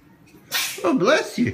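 A child sneezes twice in quick succession, loud and close, with a short breathy intake before each burst, in a quiet room.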